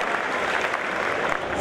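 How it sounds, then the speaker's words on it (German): Loud, dense audience clapping at a Blizzard costume contest at Gamescom 2014, a sustained close burst of applause from a crowd filling the whole moment. "einen großen Applaus hier für Franziska"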